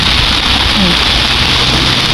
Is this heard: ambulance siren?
no